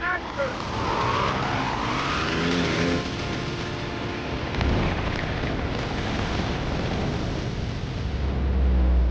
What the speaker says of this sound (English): we're gonna have a little car jump through the middle